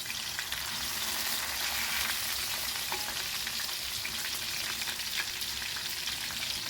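Masala-coated fish frying in a pan over a low flame, a continuous dense crackling sizzle, close and even throughout with no one speaking.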